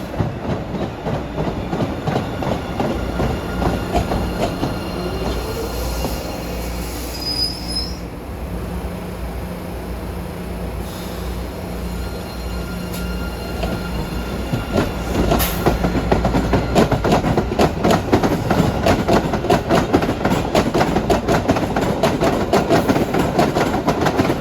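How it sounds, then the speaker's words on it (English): An MBTA Blue Line subway train runs steadily and loudly nearby, wheels squealing at times, with a rapid, rhythmic clickety-clack over the rail joints that grows denser toward the end. "nostalgia buffs who like the sound of rail joints"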